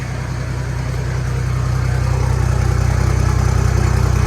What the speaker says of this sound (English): definitely some turbo noise there